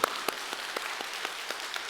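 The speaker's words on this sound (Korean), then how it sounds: "하나님께 영광의 박수" Congregation at a Korean church Sunday service claps in unison, a fairly soft, evenly spaced beat of about four claps per second under a faint wash of scattered hands.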